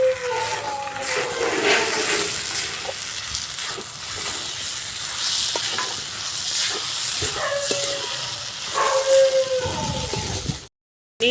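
Fried paneer tossed into a hot pan with soy sauce hisses and sizzles steadily, with scraping stir strokes and clinks scattered throughout, close up, cutting to silence at the very end.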